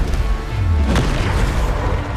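The Bombarda explosion spell in Hogwarts Legacy lands as a single deep boom within a dense rumble of combat noise.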